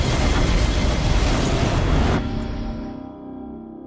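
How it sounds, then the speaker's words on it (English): Massive explosion tearing apart a Boeing 727 airliner in flight, a loud dense blast lasting about two seconds that cuts off abruptly into a lower ringing rumble. "the Boeing 727 is ripped apart by a massive explosion."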